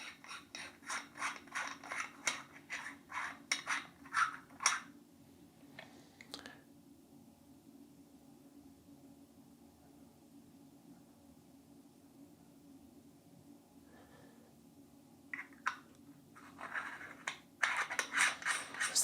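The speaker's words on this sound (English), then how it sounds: "you've got a cap for the sensor, so just unscrew that" The sensor cap of a ZWO ASI2600 MC-Pro camera is unscrewed, giving close bursts of fine ratcheting clicks and rubbing thread noise. A quiet pause follows, then a second run of clicking.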